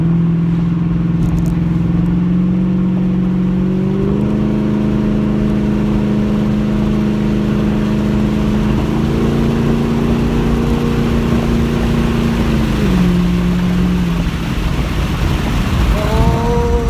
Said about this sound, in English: This car sounds amazing. Like, I just love the way it sounds.